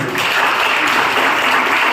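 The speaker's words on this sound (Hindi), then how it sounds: "बच्ची के लिए तालियां।" Steady, dense applause from a crowd, continuous clapping filling the whole moment without a break.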